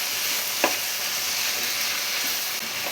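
Onion and capsicum sautéing in a pan for egg chilli give a steady, close sizzle with a couple of faint stirring scrapes, with no voices.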